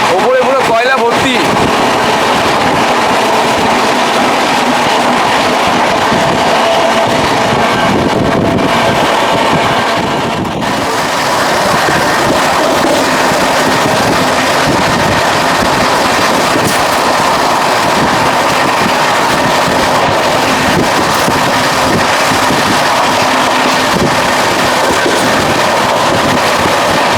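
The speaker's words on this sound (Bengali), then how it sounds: "কয়লার মালগাড়ি, ওপরে পুরো কয়লা ভর্তি।" A coal-laden freight train passes close by, heard from inside a fast-moving Rajdhani Express, a loud continuous rolling roar with wind rush that stays steady throughout, with a voice talking over it.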